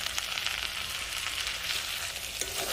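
Mutton sizzles steadily in hot oil in a pan while being sautéed with salt and turmeric, a dense, even crackling hiss that continues without pause and with no talking.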